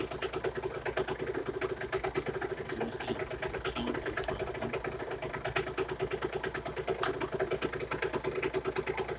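A small engine runs close by with its adjustment screw backed out one and a half turns, a fast, steady, rhythmic idle of sharp firing pulses that holds a constant level and shows no clear rise in speed. No one talks.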